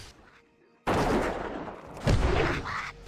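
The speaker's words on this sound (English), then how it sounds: "I'm just a random dwarf here shooting you." A dwarf hunter's gun fires in World of Warcraft, a sharp blast followed by a sustained burst of loud, dense shooting and a second heavy report, with no voice over it.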